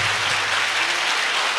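Steady applause from a church congregation clapping in praise during a worship service, a dense continuous wash of hands that stays even throughout and swells slightly at the very end.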